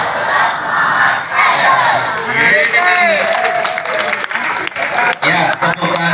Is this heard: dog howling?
no